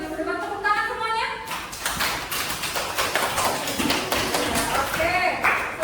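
A classroom of students claps together during an Islamic religious education lesson, a burst of dense, fairly loud clapping that starts after a short stretch of speech and continues steadily to the end.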